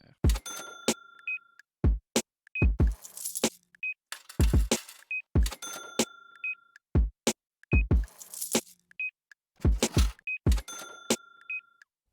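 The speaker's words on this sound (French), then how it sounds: "on a notre kick, notre snare, des petites percussions pour habiller le reste" OP-1 synthesizer beat built from percussion samples of money, such as clinking coins and jangling cash, with a kick, a snare and small accent hits in a steady looping pattern, plus short synth bleeps, playing alone with no talking.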